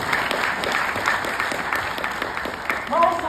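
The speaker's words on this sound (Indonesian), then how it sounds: "Tepuk tangan dulu dong." Crowd applause at a property motivational seminar, continuous clapping from a large audience with scattered voices and a cheer rising near the end.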